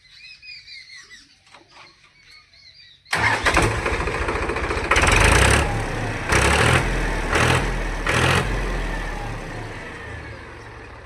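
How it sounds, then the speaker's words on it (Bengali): A Powertrac 439 tractor's engine cranks and catches loudly, settling into a rough diesel idle with several surging revs, after a few seconds of quiet outdoor ambience with birds. "তা প্রথমে স্টার্টিং করবো গাড়িটা।"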